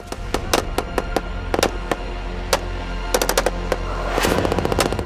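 Rapid machine gun bursts crack out in irregular clusters, loud and sharp, with continuous fire building toward the end.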